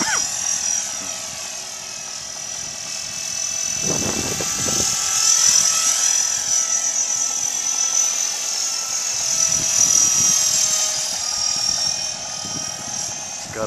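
A Blade 300X RC helicopter flies outdoors in wind with a continuous high-pitched rotor whine whose pitch sweeps up and down as it maneuvers, along with bursts of wind buffeting and brief low thumps.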